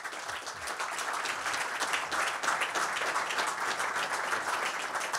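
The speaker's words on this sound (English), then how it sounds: "Let's give her a warm round of applause." A conference audience on business and economic growth gives warm, sustained applause, dense and steady clapping filling the room throughout.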